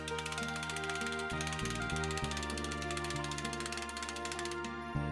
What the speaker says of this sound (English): this one, we're going to disengage that ratchet.